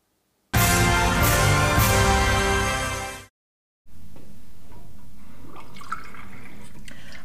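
Water pours steadily into a drinking glass, a loud, close stream lasting about three seconds that tapers off, then, after a short silence, quieter trickling and splashing continue.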